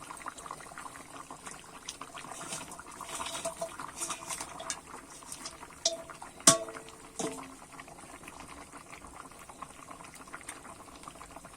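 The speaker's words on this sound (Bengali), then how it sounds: "ঝোলটা কিন্তু ভালোভাবে ফুটে গেছে, আলুও কিন্তু আর কপি সিদ্ধ হয়ে গেছে" Fish curry broth with potato and cauliflower boiling in a pot, a continuous bubbling and burbling at moderate level with a sharp clink of a utensil partway through and no talking.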